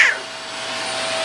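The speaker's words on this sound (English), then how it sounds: "likes playing with the vacuum" Household vacuum cleaner running steadily, a loud close whine and rushing airflow that begin with a brief higher-pitched burst and then settle into a constant drone.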